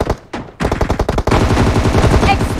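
Rapid gunfire in the mobile battle game PUBG Mobile, a short burst then a dense, loud, continuous stream of shots rattling close in, with no pauses after the first second.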